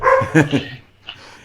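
A dog gives a few quick, close barks and yips in a home, followed by a faint short whimper.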